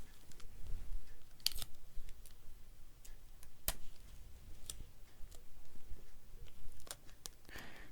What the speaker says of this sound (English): I'm just going to put a piece of Scotch tape over it.